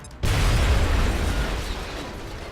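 A thrown grenade explodes in XCOM: Long War with one sudden loud blast that fills the space, then a sustained rumbling, crackling tail that slowly fades over about two seconds.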